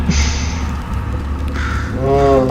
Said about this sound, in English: Why is there a bird?